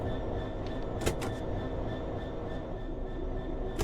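Train from the Train Sim World video game on a main running line, a steady low rumble of rolling stock with brief hiss-like bursts, heard alone without talk.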